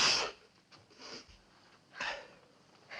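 A single sharp sneeze bursts out at the start, followed by a few quieter sniffs and breathy snorts spaced across the moment, close and fairly soft.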